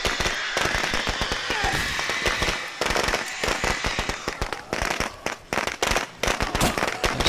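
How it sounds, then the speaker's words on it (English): Rapid, loud crackling bursts of firecrackers going off in the State of Decay 2 video game, a dense string of sharp pops running continuously with brief pauses, close and prominent throughout. "We needed those firecrackers right now."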